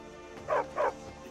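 Two short dog barks ring out in quick succession in Skyrim Special Edition, fairly close and distinct over quiet game ambience.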